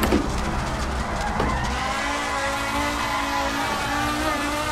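Audi Quattro S1 E2 rally car engine in the Assetto Corsa racing game, revving hard with a loud sustained roar and brief rise and fall in pitch, heard alone.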